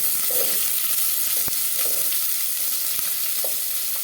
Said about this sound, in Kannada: ನಂತರ ಎಣ್ಣೆ ಹಾಕ್ತೀವಿ ನಾವು ಈರುಳ್ಳಿ ಫ್ರೈ ಮಾಡಿ